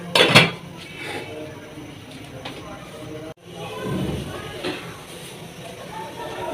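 Fried mash dal being mixed in a pot, a spoon clanking and scraping against the metal while a person talks over the cooking noise.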